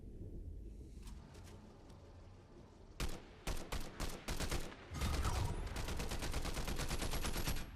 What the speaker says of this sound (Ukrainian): Далі я чую, як там стріляються чувачки, і я вирішую по ним постріляти.